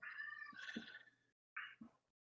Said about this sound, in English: If you hear cats meowing behind me, I am sorry.